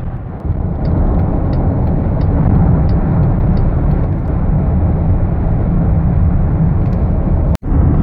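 Loud, steady road noise and engine rumble fill a car's interior on a drive toward Walt Disney World, unbroken except for a brief dropout near the end, with no voices.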